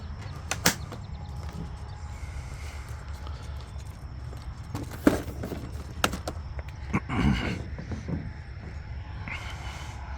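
Bumps, clunks and creaks of an aircraft canopy being pulled down and closed, a scattered series of close knocks with a short rattling slide midway, over a low steady hum.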